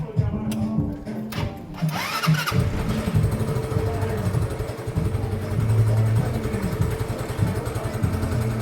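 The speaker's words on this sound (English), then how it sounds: "So let's see if this bike warms up." A 125cc scooter with choke and starting trouble cranks and catches, then settles into a steady, slightly uneven idle, heard close with no talking.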